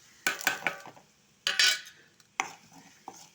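Stirring spoon scrapes and clinks in a pan as asafoetida, chilli powder and turmeric are sautéed in oil for ginger pickle; three separate bursts of stirring with faint sizzle between, close and fairly quiet.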